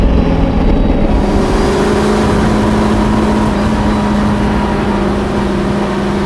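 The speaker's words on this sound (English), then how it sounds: "Just listen to that engine." A 1966 Ford GT40 Le Mans race car engine running, a loud, steady, close droning roar with a slight rise in pitch and no talking.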